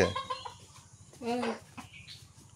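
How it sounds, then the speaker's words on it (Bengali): Farm chickens cluck nearby in short bursts, including one drawn-out squawk, while people talk quietly in a home setting. "মুরগিগুলো বদের আড্ডি।"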